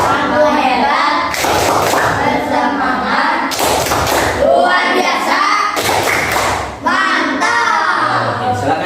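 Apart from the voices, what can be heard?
class applauding group 3 (appreciation clap)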